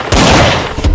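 Loud revolver gunfire in a short, booming burst that fills a single second, heard close and alone.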